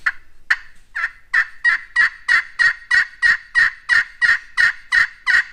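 Homemade friction turkey call worked with a striker, loud and close: a string of about fourteen sharp, evenly spaced yelps that start slow and settle into a quick steady rhythm, with no talking.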